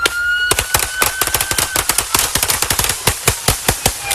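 Rapid gunfire in a police shootout with a suspect, with dense loud shots cracking in quick bursts, nearly two dozen in four seconds and some in overlapping pairs.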